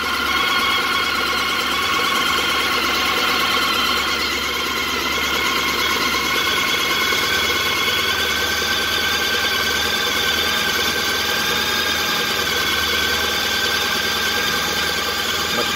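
A 2012 Honda ST1300PA motorcycle engine idles steadily during a throttle body sync, a close, continuous mechanical hum with fine rhythmic pulsing and no speech over it.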